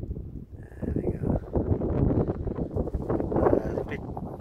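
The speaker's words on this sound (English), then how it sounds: "It's a bit too windy." Low, blustery wind buffets the microphone in uneven gusts at a pier, with faint rustling on top.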